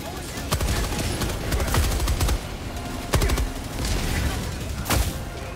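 An automatic turret in Helldivers 2 sprays dense, continuous gunfire with sharp louder bursts breaking through, close and loud, with voices talking over it.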